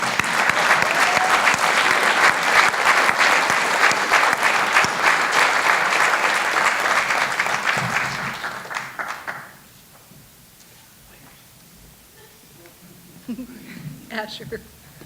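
A seated audience at a community engagement appreciation celebration applauds an award, dense, steady clapping for about nine seconds before it fades out, followed by faint scattered sounds and brief talk.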